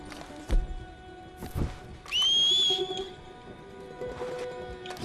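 A sharp rising whistle calls a horse in Red Dead Redemption 2, one clear sustained tone lasting under a second, preceded by a couple of soft thumps, with a faint horse sound and game ambience afterward.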